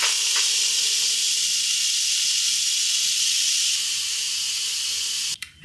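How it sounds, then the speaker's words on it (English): A pressure cooker full of potatoes vents its steam in a steady, loud, broad hiss that runs unbroken for about five seconds before cutting off abruptly near the end. "now we're going to release the pressure on the potatoes, and then expect plenty of steam"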